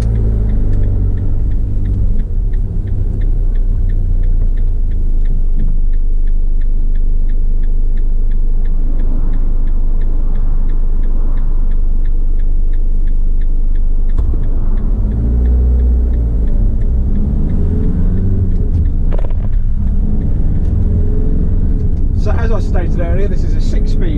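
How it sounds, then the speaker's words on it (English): A 2018 Citroen Relay 35 Enterprise van on a test drive: steady loud low engine rumble and road noise throughout, with a faint regular ticking like an indicator, and the engine note shifting partway as it moves off and changes gear. "Gonna take it on a quick test drive, so let's start her up."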